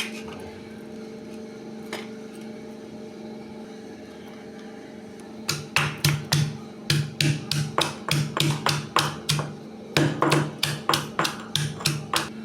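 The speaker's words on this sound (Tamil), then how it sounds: "இப்போ வந்து தட்டிக்கலாம் பூண்டை வந்து தட்டி எடுத்துக்கலாம்" Peeled garlic pounded for pepper rasam, a quiet stretch giving way to a rapid run of sharp, close knocks in quick bursts, loud and steady with no talk.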